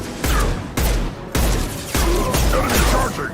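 Heavy gunfire in the video game Mass Effect 2, loud shots and bursts striking in quick succession about every half second, close and forceful, with brief voice fragments between.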